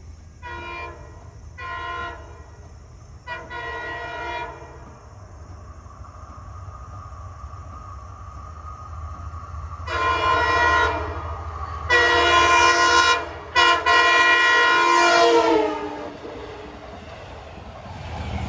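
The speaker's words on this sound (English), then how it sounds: "That was his style of horn blowing." An LIRR passenger train sounds its horn in several short blasts followed by longer, louder sustained blasts as it passes close by, with rumbling wheels beneath and no voices.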